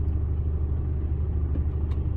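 A stationary Mercedes Actros truck idles with its engine running, producing a steady, low rumbling hum heard from inside the cab, continuous and even with no talk.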